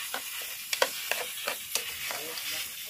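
Rice frying with seasonings in a pot on a wood-fired stove, a steady soft sizzle with several sharp scraping stirs close by, no talk over it.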